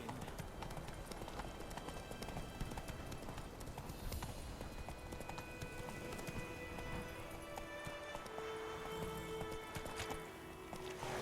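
Hooves of Roach, Geralt's horse in The Witcher 3: Wild Hunt, clip-clop in a steady running rhythm, quiet and continuous under a low game ambience.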